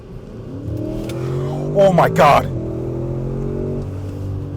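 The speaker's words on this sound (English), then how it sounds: "I'm going to accelerate a little bit so I can show you guys what this thing can do" A 2023 Audi S8 4.0T Quattro accelerates hard, its engine note rising steadily in pitch and loudness, heard from inside the car as a voice briefly exclaims over it.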